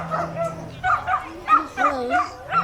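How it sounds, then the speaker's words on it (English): Dogs exchange barks and yips with each other at an outdoor fire hall barbecue, several short bursts in a rhythmic back-and-forth, moderately close, with some whimpering tones and background voices. "dogs barking at each other"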